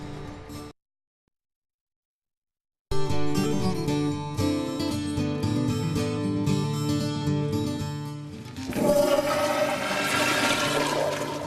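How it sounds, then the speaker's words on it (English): A home toilet flushes with a loud rushing swirl of water that builds and turns into a gurgling drain toward the end, heard alone after a short silence. "I want to flush my toilet"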